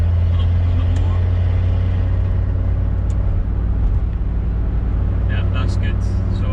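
A Mitsubishi L200 K74 diesel pickup cruising in fifth gear at about 40, heard from inside the cab as a steady low engine drone and road rumble, with someone talking over it.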